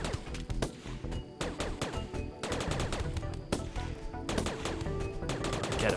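Colonists firing on fleeing raiders in RimWorld, a loud ongoing exchange of gunfire in irregular bursts of sharp cracks and short automatic volleys, close and continuous.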